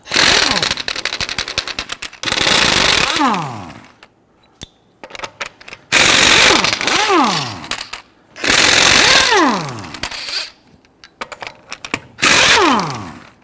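An impact tool on a Ford Taurus front wheel loosens and removes lug nuts with a 19mm socket, in four loud rattling bursts of a couple of seconds each, some ending in a falling whine, separated by short quiet gaps.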